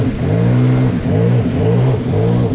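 A Sea-Doo Trixx personal watercraft carrying three riders, its engine revving hard in loud rising and falling surges as it wheelies across waves, a close, continuous droning roar.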